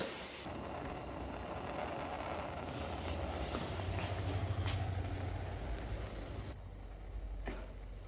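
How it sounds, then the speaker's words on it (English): A DeWalt power tool cuts into the body of a brand new 850 Summit snowmobile, a steady, loud, harsh rushing whine that holds for about six seconds before cutting out, with a brief burst near the end. "Gotta love cutting up a brand new sled, huh?"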